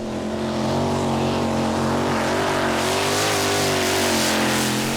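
A 1500-horsepower pulling tractor with a Chevy 562 engine makes a full pull at a Danish championship round in Herning, its loud, steady engine roar droning continuously throughout at close range.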